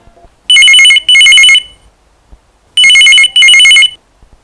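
A telephone rings during a radio phone-in call to an FM station, loud and close, two double-ring bursts with a clear pause between them and near silence around them.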